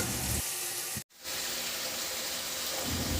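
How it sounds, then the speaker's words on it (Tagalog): Garlic sautéing in oil in a cooking pot gives a steady, bright sizzle and crackle close up, briefly cut off once near the start and then resuming at an even, full level. "itabi ko para maigisa ko na rin yung bawang"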